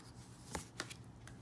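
Tarot cards are drawn from a deck in a few quiet, brief papery flicks and slides, close up, with no talking.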